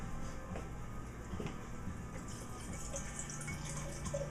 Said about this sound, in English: Okay, let's give it a pour.